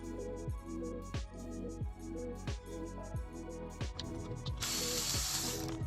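A hand ratchet loosens the valve cover bolts on an Infiniti G35/G37 engine, clicking in rapid bursts over several strokes, close and clear, ending in a brief hiss.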